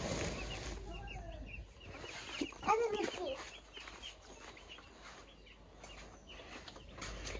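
Newly bought chicks in a village yard, a few faint high chirps and cheeps, with one brief burst louder than the rest, under background noise and some low voices.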